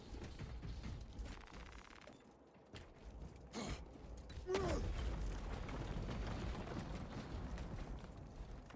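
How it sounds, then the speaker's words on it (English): Gauss weapon firing in the video game Space Marines 2, a loud crackling discharge that swells midway and holds as a sustained roar over a rumbling battle background. "That's definitely a Gauss weapon."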